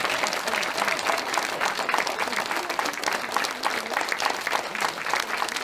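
A cabaret audience at the Canon d'Or in Lambersart breaks into sustained, dense applause that fills the room steadily and evenly, with no one speaking over it.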